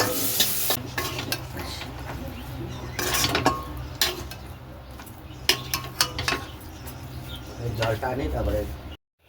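Crushed garlic frying and mashed potato being stirred in a pan for aloo paratha filling: close sizzling under repeated scraping stirs, with bursts of clatter, and a voice talking at times.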